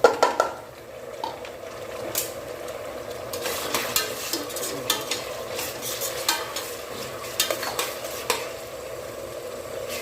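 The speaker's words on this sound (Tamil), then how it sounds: "இப்போ பார்த்திங்கன்னா வெங்காயம் வதங்கிடுது" Onions sautéing in a pan for rava kichadi, with steady sizzling and repeated scraping strokes of a spatula against the pan, close and moderately loud, with no voices.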